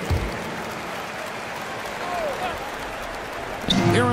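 Crowd applause and cheering fill the background of an arena in an NBA basketball video game, a steady wash of clapping under an announcer-style voice, swelling louder near the end.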